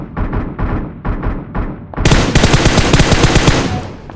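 Automatic gunfire in the mobile battle royale game PUBG Mobile: a few short bursts of rapid shots, then a dense, loud, continuous volley of firing that fills the second half with no speech.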